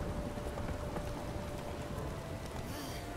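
Horse hooves clip-clop steadily in The Witcher 3, a quiet continuous trot under a background wash of ambient game sound, with no talk.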